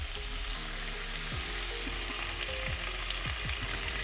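Tandoori chicken frying in a pan with its own juices and oil, the lid off, giving a steady close sizzle and crackle throughout with no talking.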